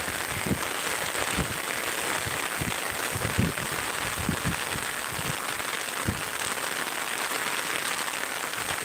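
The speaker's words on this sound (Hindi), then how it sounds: "देखो बारिश कितना हो रहा है, बहुत तेज बारिश हो रहा है यहाँ" Steady heavy rain hisses evenly throughout by a river, with scattered louder drops tapping close by.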